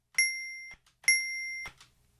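A synthesized bell tone built from pure sine partials strikes twice, each ring sustaining about half a second with bright steady overtones before cutting off, followed by a faint click.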